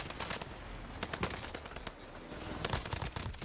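Distant, fairly quiet bursts of rapid video game gunfire crackle continuously, with sharper individual shots popping out now and then, like a busy firefight.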